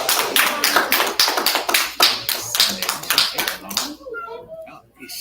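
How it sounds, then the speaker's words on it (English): An audience applauds a performer with dense, loud clapping that fades out toward the end, with voices mixed in. "Y'all clapping up for him one more time."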